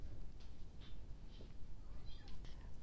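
A cat meows a few times at a door, the short, faint cries sitting in a steady background hiss.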